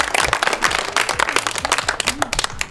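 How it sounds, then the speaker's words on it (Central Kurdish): Dense, lively applause from a group clapping for a child at a gathering in Chaqzh village, with many hands striking in quick, overlapping bursts that stay loud and close throughout. "یەک چەپڵەی بێز بۆ هەناسە"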